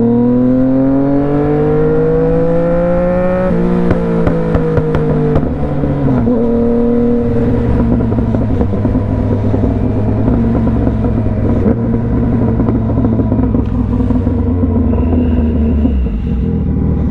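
A Yamaha FZ-09 motorcycle ridden through city traffic, its engine droning loud and close with pitch falling through gear changes and the exhaust crackling and popping as it slows.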